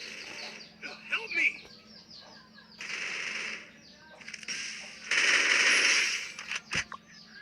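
Gunfire from the battle royale game Free Fire comes in several sharp rapid bursts and single shots, close and loud, separated by quieter stretches of in-game ambience.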